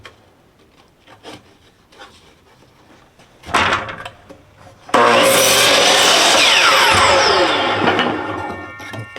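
A wood board being cut to 14 inches, with faint rubbing at first, then a louder scrape and a sudden harsh, loud sustained cutting noise that dominates the rest of the moment, with no talking.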